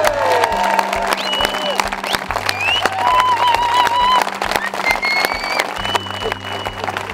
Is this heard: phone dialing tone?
no